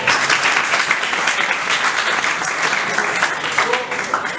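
Students clapping for themselves at the end of a workshop session, a full room of hands clapping together in a steady, loud wash that continues without a break.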